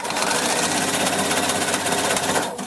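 A sewing machine runs steadily, stitching a wide zigzag along the blue-threaded edge of a fleece blanket, a continuous close whir with fine rapid needle rhythm that stops abruptly near the end.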